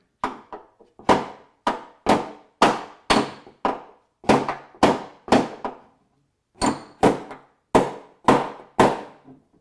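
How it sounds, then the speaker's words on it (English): Repeated sharp metallic strikes of a body hammer and dolly on a car trunk lid's sheet metal, about a dozen in irregular bursts with short pauses, loud and close, each ringing briefly. "Take and lay my body hammer or my dolly up here."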